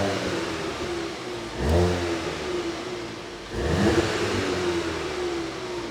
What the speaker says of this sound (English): we'll pop it into Sport, give a little rev so you can hear it